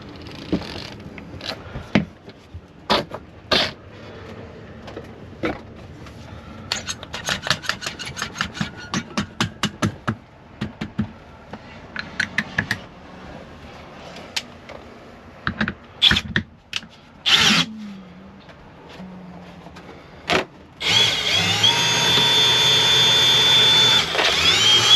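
Material for a motor home windshield cover is cut in a series of sharp, irregular snips and rustles at close range, followed by a sustained broadband rushing noise toward the end.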